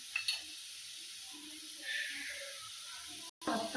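A chapati sizzles and hisses on a hot tava brushed with oil, a steady, close frying crackle with a brief break near the end and faint speech at the edges.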